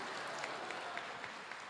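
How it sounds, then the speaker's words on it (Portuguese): Congregation applauding in a church service, a soft, steady wash of many hands clapping, fairly distant and even throughout. "pode aplaudir, aleluia!"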